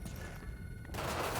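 Gunfire erupts in the video game Cyberpunk 2077, a sudden burst of loud shots after a quieter lull, filling the closing half second densely.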